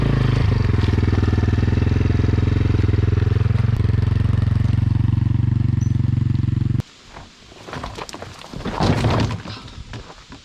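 A Kovi enduro motorcycle engine runs loud and close with a steady, rough drone for several seconds, then cuts off abruptly, followed by scattered knocks, rustling and clattering outdoors in the Carpathian mountains.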